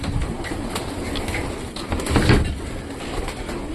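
Pigeons coo softly nearby amid a busy, rustling background, with a few low murmuring calls and flutters.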